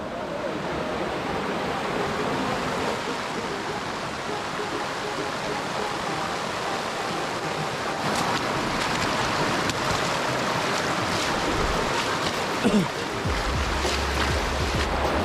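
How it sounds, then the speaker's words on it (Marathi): Constant rush of stream water from the 400 ft Shidheshwar waterfall near Alibag, crossed on foot, broad and steady, with a few brief knocks and a low rumble near the end. "इथे पाण्यामध्ये जे वॉटरफॉलचं पाणी येतं त्याला आम्ही इथे क्रॉस करतोय"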